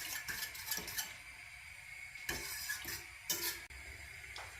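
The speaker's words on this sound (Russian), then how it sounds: "Вводим молоко." Milk is poured into barley porridge in a pot on a gas stove and stirred, with a spoon clinking and scraping against the pot in short, irregular bursts close by. No one speaks.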